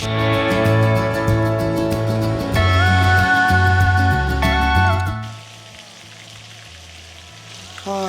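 Fish fries in oil in a pan, a steady loud sizzle under a sustained tonal melody that drops away midway, leaving a softer crackle.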